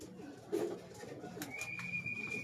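Racing pigeons coo softly nearby in a loft, with a few low throaty coos and faint background sounds, plus a thin steady whistle tone partway through.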